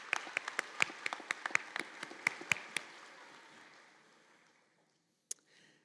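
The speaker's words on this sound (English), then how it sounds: "So let's recognize these folks with a little hand of applause." A small audience at a nurses' pinning ceremony claps in a sparse, uneven patter of distinct claps that thins and fades out within a few seconds, followed by one last isolated clap.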